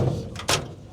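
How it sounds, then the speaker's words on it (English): The door of a 1947 Chevrolet 3100 hot rod is shut: a single sharp slam, close and solid, preceded by a short rustle and followed by a fading low rumble. "And even shutting the door."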